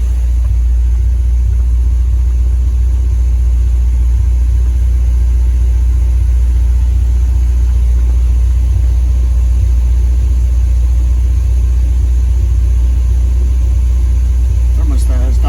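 A car engine idles steadily as it warms its coolant with the thermostat still closed, a constant low rumble close by, with a voice speaking over it.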